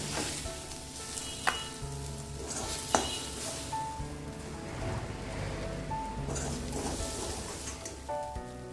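Masala paste with crushed peanuts sizzles steadily in a pan as it cooks down for a stuffed capsicum filling, with occasional sharp scrapes and knocks of stirring over the continuous frying hiss.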